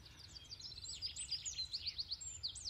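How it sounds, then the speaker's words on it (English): Soft, distant song of a blackbird perched in a cherry tree: bright fluting whistles followed by a run of quick repeated chirps, set against faint low ambient rumble and no speech. "I hope you can hear that beautiful blackbird."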